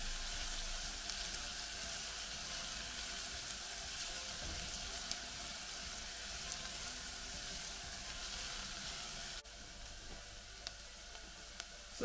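Onion and garlic frying in a pan while being stirred, a steady close sizzle with faint crackles and soft spatter that continues without pause and drops slightly in level near the end.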